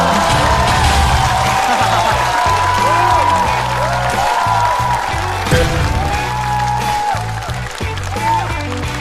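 A stand-up comedy audience applauds and cheers in a steady, dense wash of clapping, with tonal music playing underneath and a host's voice over the top.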